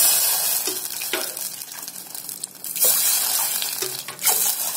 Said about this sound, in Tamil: முந்திரி திராட்சை வறுத்து எடுத்ததுக்கு அப்புறம் தண்ணி வந்து ஒரு 5 கிளாஸ் ஊத்திக்கலாம்